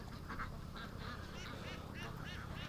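A Muscovy duck calls close by in a string of short, raspy, repeated cries spaced across a few seconds over low background rumble.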